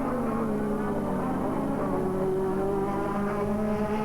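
A Honda-engined 1985 Formula 1 car at racing speed, its high engine whine holding a sustained tone that climbs slightly in pitch, heard steadily without any talk.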